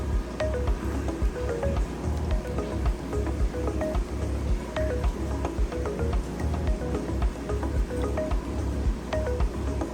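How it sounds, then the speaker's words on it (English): Glued coral frags dipped and swished in fresh aquarium tank water, giving soft repeated squishy splashes and drips up close over a steady low water hum. "I'm going to dip them in the fresh tank water to get off any excess glue."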